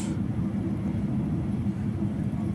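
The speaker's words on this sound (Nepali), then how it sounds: "किङ खालिद अन्तर्राष्ट्रिय विमानस्थलमा अवतरण हुँदैछ" Inside a plane landing at King Khalid International Airport in Riyadh, a steady low engine and airflow roar fills the cabin, even and unbroken.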